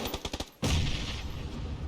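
A grenade bursts during a competitive video game match, a loud sudden blast that cuts through a rapid volley of gunshots and then trails off into a rumbling tail.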